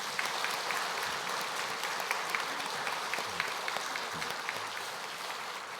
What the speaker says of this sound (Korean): 다시 한번 축복의 박수